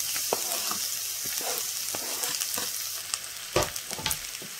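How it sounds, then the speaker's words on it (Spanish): Garlic sizzles in hot olive oil in a pan, a bright continuous hiss peppered with crackles and a couple of louder spits near the end, close up with no speech. "Con el aceite caliente añadimos nuestro ajo."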